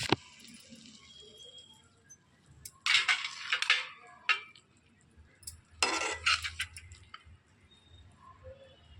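Leafy green pacha kura curry is scooped from a pan into a serving bowl, with bursts of wet scraping and spoon clinks against metal, close and intermittent.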